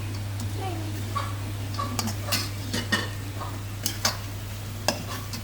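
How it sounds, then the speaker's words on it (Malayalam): Fried quail is stirred into a sizzling chatti masala gravy, a steady close sizzle broken by scraping spoon strokes and clinks against the pot, while a person talks over it. "ഇനി നമ്മൾ വറുത്ത് വെച്ചിരിക്കുന്ന കാട ഇതിനകത്തോട്ട് ഇടുക"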